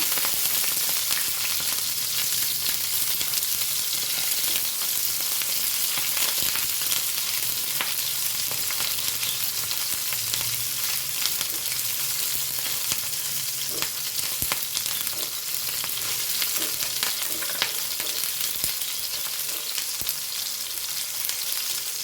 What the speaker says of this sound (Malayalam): ഈ നാളികേരം ഇട്ട് കൊടുക്കാം കേട്ടോ ഒന്ന് നമുക്ക് ഒന്ന് ഇളക്കി കൊടുക്കാം